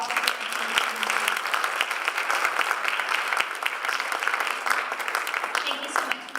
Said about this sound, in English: Can we please give them another round of applause for all of their